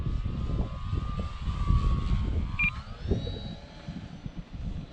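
A Master Series Mustang RC model airplane flies overhead, its engine whine holding steady then shifting pitch as it climbs and dives, loud and continuous against rumbling wind on the microphone.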